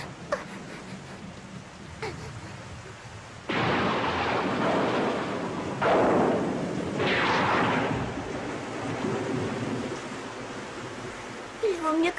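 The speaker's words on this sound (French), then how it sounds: "il se met déjà à pleuvoir" Cartoon rain and thunderstorm effect: quiet patter at first, then sudden heavy rumbling thunder bursts that roll on over steady rain.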